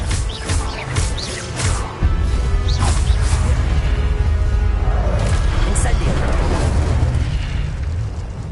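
Incendio fire spells cast in Hogwarts Legacy, booming fiery bursts and whooshes over a steady loud rumble of combat, with sharp repeated blasts early on. A voice can be heard amid the spellwork.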